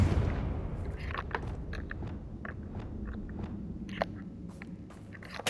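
A Confringo blast spell cast in Hogwarts Legacy gives a loud opening burst, then a dense rumbling bed of game noise broken by several sharp crackling hits and impacts, with no voice.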